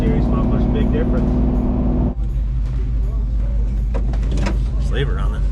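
A Dodge Dakota engine idles with 40 to 50 series mufflers, giving a low, steady exhaust rumble with a brief dip partway through, while people talk nearby.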